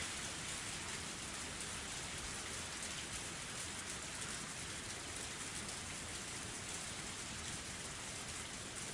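Pouring rain from the Higurashi When They Cry video game hisses as a steady, dense wash of falling drops, soft and even throughout, with no voices.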